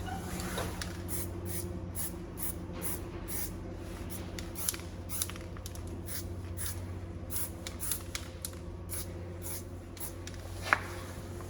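Texture paint is sprayed in light coats, with repeated short hissing bursts at a steady pace over a faint background hum.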